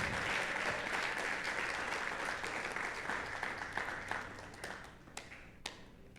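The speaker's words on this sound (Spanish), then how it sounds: "Aplaude al Señor." Church congregation clapping during a Sunday worship service, a sustained crowd of hand claps that gradually thins, with a few louder scattered claps near the end.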